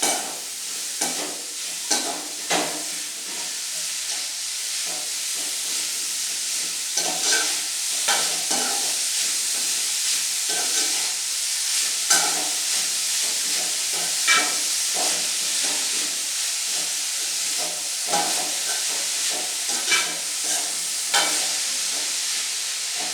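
Beetroot thoran being stirred as it fries in a pan, Kerala style, a continuous bright sizzle and hiss broken by repeated scraping strokes of the spoon, close and loud with no voices.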